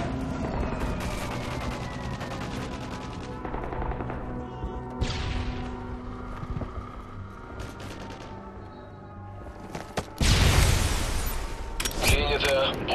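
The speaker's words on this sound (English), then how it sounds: "Бомбы сброшены." Airstrike bombs exploding in Modern Warfare 3 during a team deathmatch on the Downturn map: gunfire and scattered blasts through the clip, then a loud burst of explosions near the end, with game voice chatter in between.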